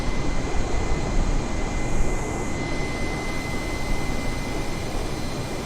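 Airbus A320 jet engines drone steadily in a flight simulator game, a broad continuous roar with a faint high whine, constant and fairly loud throughout without speech.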